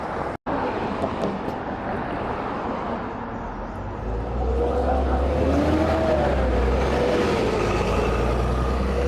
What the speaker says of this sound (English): That engine sounded so nice. That's why I love Tridents